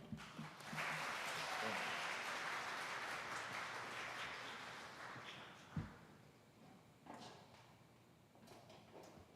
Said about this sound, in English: Y'all give her another hand clap.